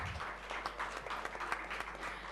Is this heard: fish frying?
no